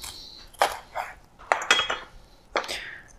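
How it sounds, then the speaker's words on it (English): A kitchen knife cutting broccoli florets on a board, several crisp separate cuts and knocks spaced irregularly, close and clear with quiet gaps between. "you can take your knife and just cut off a little bit more"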